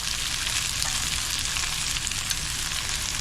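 Sausage and broccoli rabe with garlic and chili flakes sauté in a hot pan, giving a dense, steady sizzle that stays loud and close throughout, with no voices.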